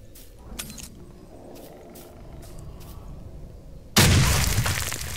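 A single loud grenade blast in the video game STALKER Autumn Aurora bursts out after several seconds of quieter rustling and faint clicks, with its rumble fading slowly.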